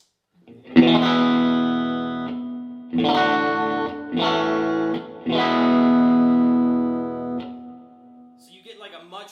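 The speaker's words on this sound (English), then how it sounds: "It literally sounds like you're inside of a large hall." Electric guitar chords strummed in four bursts through a large-hall reverb pedal into a vintage tube amp, each ringing out in a huge, spacious reverb wash that lingers and trails off at the end.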